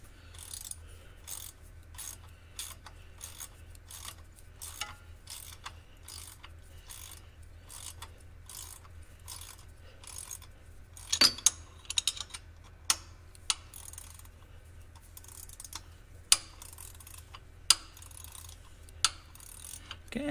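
A ratchet wrench clicks in steady rapid bursts while turning a bolt on a tractor, with repeated pauses between strokes and a few louder knocks of the tool near the end, over a low engine-like hum.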